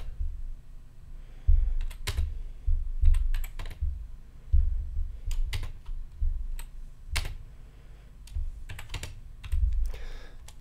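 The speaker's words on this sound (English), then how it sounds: "just press the shift key and the space bar to go backwards" Steady typing on a computer keyboard while entering notes in MuseScore notation software, with bursts of close, crisp key clicks, occasional louder thumps like the space bar, and brief pauses between runs. No one speaks.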